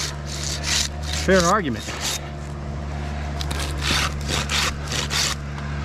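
A sharp Silky handsaw cuts through wood, its rhythmic rasping strokes repeating steadily at close range, with someone talking over part of the sawing.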